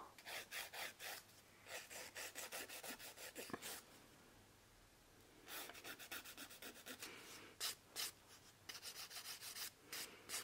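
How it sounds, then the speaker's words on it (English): A 240 grit Glitterbels nail file works over gel nails in quick rhythmic strokes, giving a close, soft scratchy rasping in bursts with a brief pause midway. "I'm going to use a 240 grit Glitterbels file."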